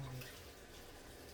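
Faint tap water running steadily into a sink during dishwashing, a soft continuous splash heard close but quiet.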